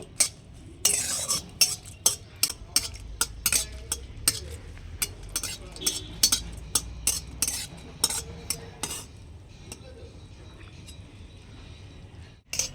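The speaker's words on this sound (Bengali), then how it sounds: "এবার আমি 4টে শুকনো লঙ্কা দিয়ে দিলাম, ভেজে নেব" Four dried red chillies fry in a little oil in a wok while a spatula scrapes and clinks against the metal in a quick, repeated rhythm, with a faint sizzle underneath.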